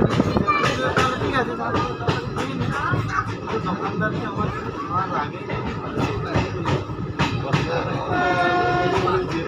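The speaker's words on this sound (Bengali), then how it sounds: "আমাদের ট্রেন এখন পার করছে মধুকুন্ডা স্টেশন।" A passenger train, the 03466 Digha–Malda Town special, rolls through Madhukunda station with a loud, steady rumble, wheel clatter and horn tones, while someone speaks over it.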